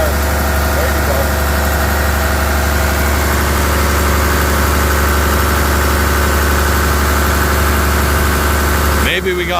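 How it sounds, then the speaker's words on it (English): A car engine idles loudly and steadily with the air conditioning fan blowing on full, a constant low rumble and broadband whoosh that shifts abruptly near the end. "Crank the AC full blast"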